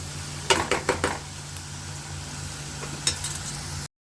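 Food frying in hot oil, with a quiet, steady sizzle under a few sharp metallic clinks and scrapes of a utensil against the pan, close up and without talk.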